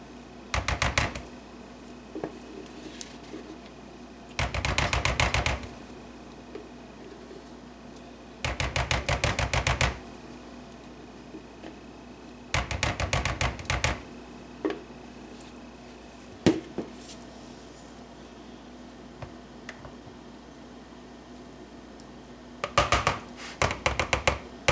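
Spatula scraping thick soap batter out of a container, several separate bursts of rapid scratching strokes separated by quiet pauses, close and fairly crisp.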